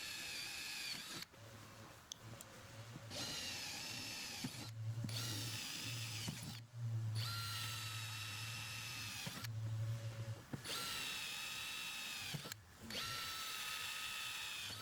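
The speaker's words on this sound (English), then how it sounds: "Pre-drill all holes with a 1/8 inch bit." A power drill with a 1/8 inch bit bores pilot holes through a drill template into a Humvee truck bed for a shell install. Several sustained high whining runs come close up, separated by short pauses.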